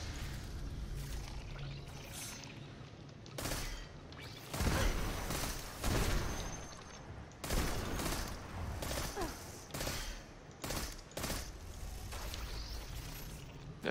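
Gunfire in the shooter game Destiny 2, with repeated bursts of shots and impacts coming in clusters over a steady background of game ambience, moderately loud.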